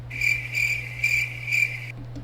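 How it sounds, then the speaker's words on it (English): Crickets chirp in four evenly spaced bursts of shrill trilling, close and clear over a constant low hum, then stop abruptly near the end. "Crickets."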